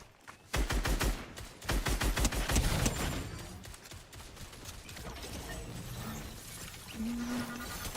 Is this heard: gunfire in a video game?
yes